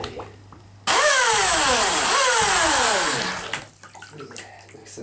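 A remote control jet boat motor bursts into a loud high-pitched whine with water gushing, pitch wavering twice as the throttle is blipped, running for about three seconds before cutting out to dripping and draining water.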